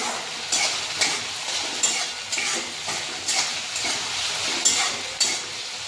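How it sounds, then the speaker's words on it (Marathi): Chopped tomato sautéing in a pan, with a steady sizzle under repeated scraping strokes of a spatula at a regular rhythm, close and moderately loud, with no voices. "टोमॅटो मऊसर होईपर्यंत परतून घेऊ।"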